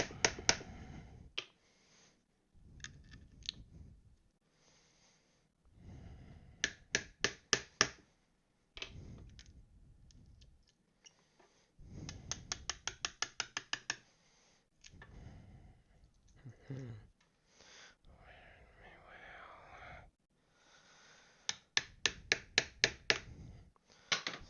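A metal hammer rings out in bursts of sharp, pingy strikes during woodworking, close and loud, with rapid volleys of hits separated by short pauses and some quieter scraping between.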